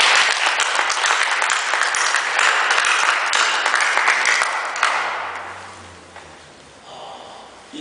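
Church congregation applauding to encourage a children's choir, a broad, steady wash of clapping from a large crowd that fades away after about five seconds.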